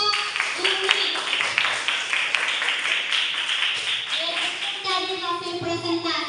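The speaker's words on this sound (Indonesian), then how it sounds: "berikan tepuk tangan untuk kelompok Bumi" A classroom applauds a student group called Bumi, with a brisk run of many hands clapping close by. Children's voices and chatter mix in, and the clapping thins toward the end.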